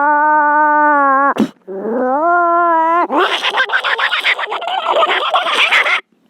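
A voice imitates cats fighting, starting with long, rising, yowling wails and breaking into harsh, rapid hissing and spitting snarls, loud and close.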